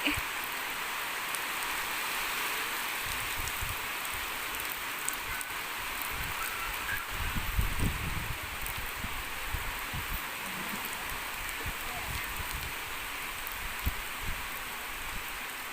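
Rain falls steadily outdoors, a broad even hiss with scattered drips and patters, plus a few low rustles and thumps nearby.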